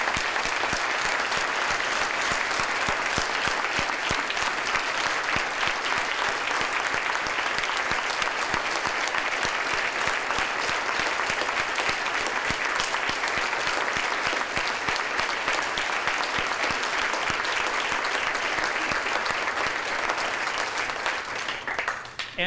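Sustained, loud audience applause fills a hall at the 2008 Kansas Sports Hall of Fame induction ceremony, a dense steady clapping from a large crowd that holds evenly throughout and only tapers slightly at the very end.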